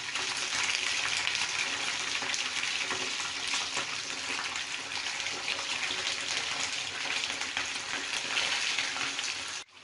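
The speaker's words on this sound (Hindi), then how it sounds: "दूसरी साइड पे हमने जो मछली ली थी सालन के लिए उसको हमने थोड़ा सा हल्का सा फ्राई करना है।" Fish pieces lightly frying in a pan of oil for a Pakistani fish salan, a steady dense sizzle that stays loud and even for the whole stretch, with no voices.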